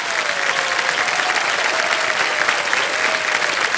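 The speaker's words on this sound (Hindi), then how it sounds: "तालियां बज जाएं इनके लिए।" Studio audience applause on the KBC quiz show set, steady and fairly loud continuous clapping with a faint tonal music line running beneath it.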